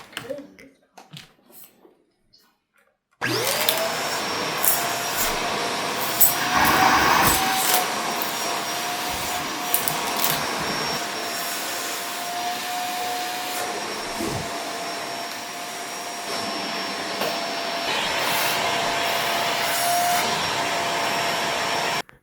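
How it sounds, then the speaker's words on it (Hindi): A household vacuum cleaner switches on after a few quiet seconds and runs continuously while cleaning a house, a loud steady motor whine with a high tonal hum and shifting suction noise as it moves. "सोफ़े क्लीन करने के बाद फिर मैं पूरे घर को वैक्यूम क्लीन करती हूँ"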